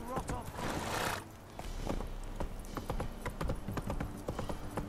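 In The Witcher 3, the horse Roach gallops with steady, rapid hoofbeats thudding close and clear, under a continuous rushing background.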